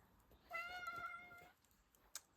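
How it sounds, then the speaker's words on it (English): A pet cat lets out one drawn-out, whiny meow of about a second, close but fairly soft in a quiet room, and a small knock follows shortly after. "Oh, that was my little kitty boy."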